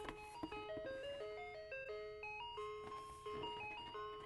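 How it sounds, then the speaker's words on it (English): A tinny, electronic ice cream truck jingle plays from an opened box, its melody clear and alone, a bright music-box tune of stepping notes. "It plays the ice cream truck song."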